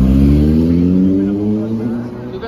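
Cars drive along a street near Green Park in London, one engine close and loud as it rises then fades away, with someone talking over the traffic.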